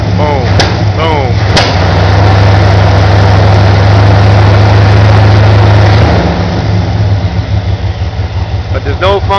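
A warmed-up car engine idles steadily and loudly up close, with a low even drone that shifts slightly as the choke raises the idle; a person's voice breaks in briefly near the start and end.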